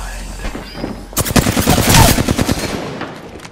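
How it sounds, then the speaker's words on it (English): Loud bursts of automatic gunfire in the video game Apex Legends start after a quiet moment and rattle on in quick rhythmic shots before tapering off, with faint game voices around them. "They're firing on me."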